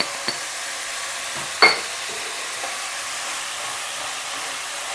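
Bitter gourd pieces fry with salt in oil over high heat, giving a soft steady sizzle broken by a couple of brief clinks of a spoon against the pan.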